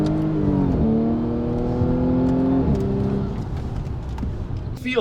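A tuned Audi S5 B8.5 with a Stage 1 ECU and dual-clutch TCU tune, around 420 hp, pulls hard from the cabin with a loud, rising engine note that climbs through gear changes and then settles into a steady drone.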